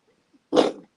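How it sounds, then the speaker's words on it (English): One short, husky cough or throat-clearing bursts out close by, a single abrupt sound lasting about a third of a second in an otherwise quiet moment. "He has a coughing fit every once in a while still."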